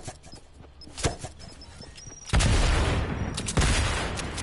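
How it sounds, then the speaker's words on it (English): Gunfire in a battle-royale video game sounds as a couple of sharp isolated shots, then a loud sustained burst of rapid fire with a further crack near the end, close and dominant, with no speech. "Oh, and there's gunshots."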